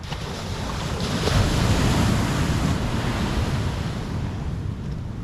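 Strong sea waves crash and surge nearby, a loud continuous roar swelling briefly then easing, with wind buffeting the microphone.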